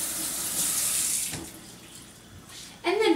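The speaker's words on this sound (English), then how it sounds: "Start by rinsing the catfish off" Catfish rinsed under a running kitchen tap gives a steady hiss of flowing water that fades partway through, then a sudden louder splash near the end.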